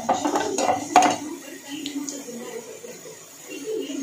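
Mustard seeds and cumin stirred in a pan, a spoon clinking and scraping against metal in a few close, quick strokes, then a quieter sizzling stretch.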